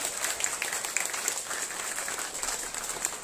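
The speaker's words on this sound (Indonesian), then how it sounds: "Terakhir kita beri tepuk tangan yang lebih keras lagi untuk Pak Anies." Applause for Anies Baswedan from an indoor audience in Taiwan, a steady dense patter of many hands clapping, moderately loud and sustained without a break.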